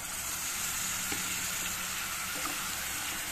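Boiled jackfruit seeds fry in masala with a loud, continuous sizzle, and faint scrapes of stirring come through now and then.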